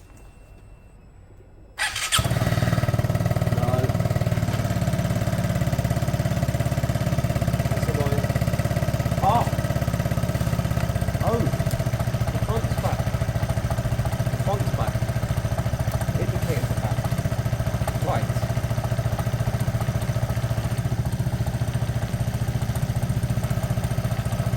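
A Piaggio Fly scooter with a swapped engine starts up and then runs at a steady, loud idle with a droning hum, heard close and continuous for over twenty seconds.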